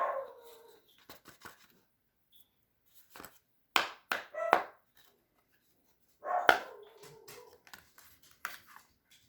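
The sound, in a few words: dogs barking in background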